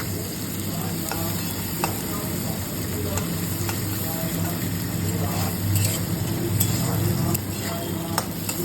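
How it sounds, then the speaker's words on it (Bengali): Garlic and onion fry for arhar dal in a pan, giving a steady, loud sizzle with occasional stirring scrapes and taps throughout, no voices heard. "রসুন আর পেঁয়াজটা ভালো করে ভেজে নেব"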